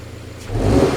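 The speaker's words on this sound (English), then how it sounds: "Kind of snap the throttle all the way down for just half a second and let it go." Car engine with a suspected exhaust restriction, throttle snapped wide open for half a second: a quiet idle jumps into a loud, close, rising rev.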